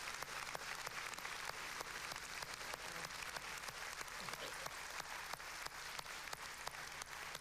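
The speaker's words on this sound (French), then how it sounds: "je pense qu'on peut applaudir très très très largement Else." Sustained audience applause at the end of a French lecture on essential oils, a dense even wash of many hands clapping, steady and fairly distant.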